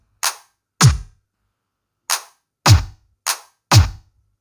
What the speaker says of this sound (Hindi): आपको हार्ड किक का क्वालिटी समझ में आ रहा होगा